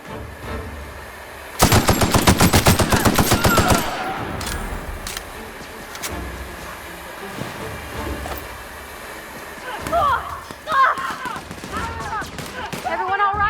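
A gun in The Outer Worlds video game fires a rapid automatic burst of about two seconds, loud and close. Scattered quieter in-game sounds and a short voice follow.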